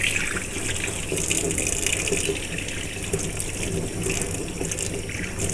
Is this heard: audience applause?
no